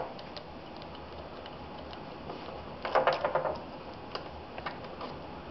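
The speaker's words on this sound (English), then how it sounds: "Loosen the screw on this side of the pump. Allen screw underneath the pump." An Allen wrench works a screw beneath the pump of a Riello RDB oil burner, giving faint, sparse metallic ticks with a brief cluster of quick clicks midway, all quiet and close.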